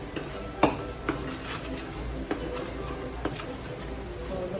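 Soft stirring of food in a cooking pot with ginger and blood, a few light scraping clicks and knocks against the pot over a faint sizzling bed, quiet and close.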